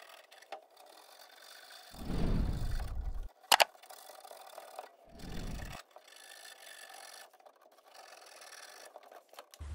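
Sandpaper is worked lightly against a water shutoff valve stem to clear mineral deposits, making two short, low rubbing bursts amid quiet handling noises and one sharp click.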